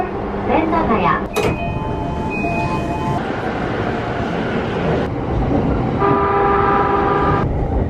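Inside a Tokyo Chuo line local train in service: a steady, close rumble of the running carriage fills the whole clip, with chime tones and recorded announcements heard over it.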